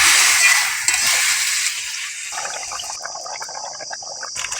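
A potato and pointed gourd curry stirred in a frying pan gives a steady, close hiss of sizzling oil, with light scraping and clinking of the spoon as the mixture is turned.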